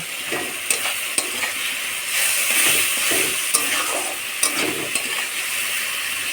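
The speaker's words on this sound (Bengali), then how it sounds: "রাখা তেলাকুচো শাকগুলো দিয়ে মশলাটা একটু কষে নেব" Ivy gourd leaves stirred into a turmeric and ginger masala with mussels, frying in oil; a steady close sizzle runs throughout, punctuated by several sharp clinks and scrapes of a spatula against the pan.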